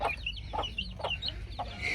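A hen clucking close by, several short throaty clucks in an uneven rhythm, with faint chirps from other birds in the background.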